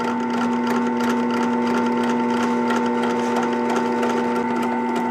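A karambit blade being ground with a tri-handle grinding aid gives a steady, loud mechanical whine with a strong constant hum throughout, no pauses or talk.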